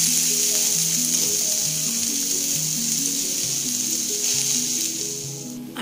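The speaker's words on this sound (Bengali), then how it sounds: "শাকটা বড়ি দিয়ে ভাজবো, তাই বড়িগুলোকেই সাইডে আলাদা করে ভেজে নেওয়া হচ্ছে" Lentil badi frying in a pan for a dish of mixed greens, giving a steady, continuous sizzling hiss that holds for the whole stretch beneath a soft, stepping melodic backdrop, with no talking.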